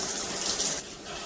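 A high-pressure filtered shower head with three spray modes sprays water in a steady, loud, close hiss that dips slightly and keeps going.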